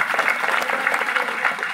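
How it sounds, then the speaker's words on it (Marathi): Loud, steady applause from a kirtan audience at a devotional performance, a dense wash of clapping sustained across the whole short stretch with no gaps. "जोरदार टाळ्या झाल्या पाहिजे."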